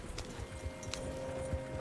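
Horse hooves clip-clopping on a trail in the Western video game Red Dead Redemption 2, a steady rhythm of moderate thuds with ambient game music and background sound.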